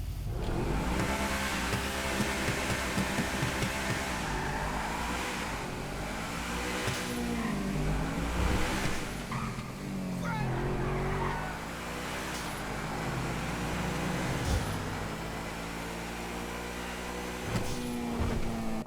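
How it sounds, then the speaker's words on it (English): An Obey 9F Cabrio convertible in GTA Online revs and drives, its engine note rising and falling through gear changes with brief tire squeals, loud and continuous. "We're gonna do a sound test and a full review on the car now."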